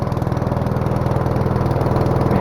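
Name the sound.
Troy-Bilt 6 hp snowblower engine running on choke in the cold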